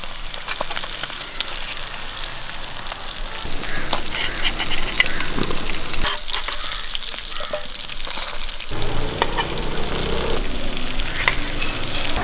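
Fish fries in hot oil in a pan, crackling and sizzling densely and loudly throughout with scattered sharp pops, with no talking.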